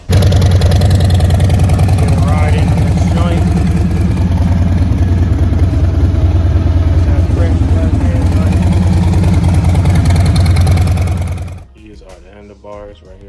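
A Harley-Davidson Road King motorcycle engine idles close by with a loud, steady, deep drone, then cuts off abruptly near the end, with a voice present over it.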